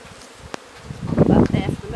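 Honey bees buzzing at an opened hive during a winter inspection, a close, rising swarm of droning hum that swells over the last second, with faint rustling beforehand.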